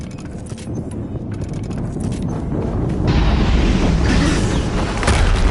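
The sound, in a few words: explosion in the video game Horizon Zero Dawn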